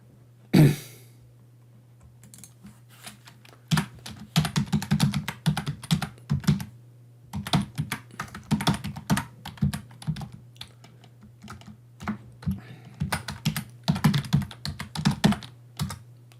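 Fingers tapping a password into a computer keyboard, with a close, clicky run of keystrokes in irregular bursts and short pauses over a faint steady hum, opening with one sharp knock.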